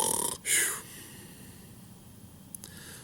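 A storyteller's voice imitates a wolf snoring during a Little Red Riding Hood storytime: one short, loud snorting breath up close, followed by quiet breathy room tone and a faint click.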